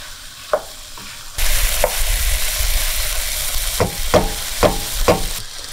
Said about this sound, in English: this is the time to add the tomato paste and saute that also for another 3-4 more minutes